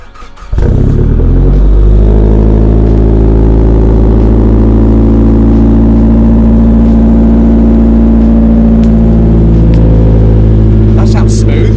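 A Nissan Pulsar GTiR engine, freshly rebuilt with forged internals, cranks and fires on its first cold start, then settles into a loud, steady, close idle for several seconds, with people talking over it.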